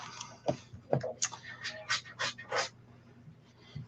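Small dog pants in quick, breathy bursts with a few soft whimpers, close and quiet indoors, in a short irregular series.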